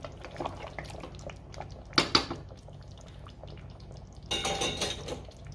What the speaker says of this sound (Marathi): अजून थोडं पाणी घालणार आहे मी.